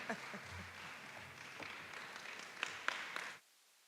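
An audience at a university health and wellness expo launch claps steadily as a nurse walks to the stage, with a few sharper claps standing out before the applause stops abruptly.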